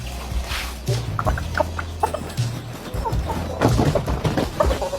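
A chicken clucks and squawks up close while being taken out, with bumps and shuffling around it and a few voices in the background.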